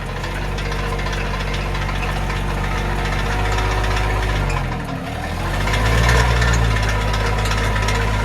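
A tractor engine runs steadily with its PTO engaged at about 540 RPM, a loud continuous drone that dips briefly and then rises to a slightly higher pitch, with no talk over it.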